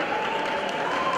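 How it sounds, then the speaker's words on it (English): Audience applause at a BSA club championship final rolls on as a dense, continuous wash of clapping, fairly loud and sustained, with a faint voice or tone running beneath it. "Another round of applause, ladies and gentlemen, to Josie Nuggets."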